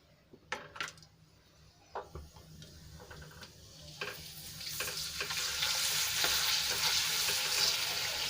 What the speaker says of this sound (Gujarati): એક પાપડ હું તમને તળીને બતાવું